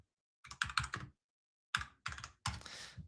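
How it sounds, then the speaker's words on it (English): Typing on a mechanical computer keyboard, close and clear, in three clattering bursts of rapid key clicks separated by short pauses, with no voices. "And I actually upgraded my keyboard now, baby. You're gonna hear some mechanical stuff."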